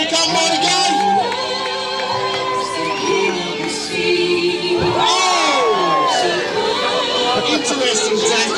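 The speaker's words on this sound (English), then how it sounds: "Let's cheer it up, guys." Crowd cheering, whooping and shouting at a snow bum-slide event, a loud lively mix of voices with spoken chatter, continuous throughout.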